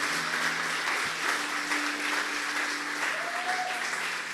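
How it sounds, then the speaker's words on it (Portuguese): A church congregation applauds after a sermon, steady sustained clapping filling the room with a faint tonal hum underneath and no talk. "Dê mais um aplauso gostoso a Ele."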